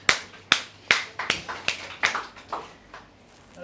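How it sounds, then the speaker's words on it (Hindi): Students clap in a classroom during a maths lesson, about a dozen sharp, close claps that start crisp and spaced, then quicken and fade into softer, scattered claps. "तालियां बेटा।"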